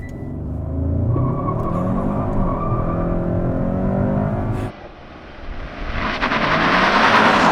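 A 2021 Hyundai Sonata N Line doing a full-RPM launch control start: an engine held at high revs with a loud steady roar, a brief dip at a gear change, then rising acceleration, heard from inside the car.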